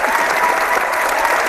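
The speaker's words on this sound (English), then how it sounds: "Wait, where's the clapping sound?" Loud, dense applause from a crowd of many hands, steady and unbroken for the whole moment, used as a comedic sound effect on a gaming talk show.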